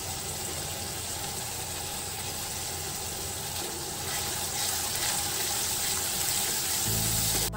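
Spice powder masala fries in a pan for a baingan masala eggplant curry, giving a continuous even sizzling hiss, with a low hum joining near the end.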